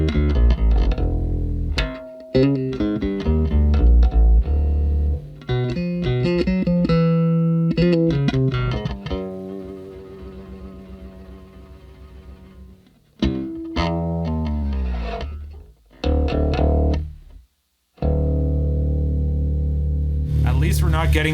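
Bass guitar notes played through a rebuilt Sorado bass amplifier at low volume, plucked lines and sustained tones with some effect coloring, broken by short silent gaps.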